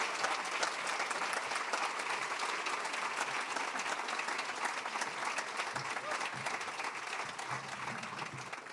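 Sustained applause from a gala audience welcoming San Francisco Mayor London Breed to the stage at the California Academy of Sciences Big Bang Gala, a dense, steady wash of clapping that fills the whole stretch with no break.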